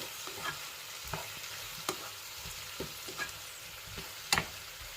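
Berbere pepper and salt stirred together in a pan, a spoon or spatula scraping in scattered soft strokes against a faint sizzle, with a sharper clink near the end.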